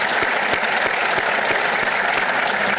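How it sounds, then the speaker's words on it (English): Steady applause from a large audience at a Surface Navy Association address by the Chief of Naval Operations, dense and continuous throughout with no talk over it. "That is worthy of applause."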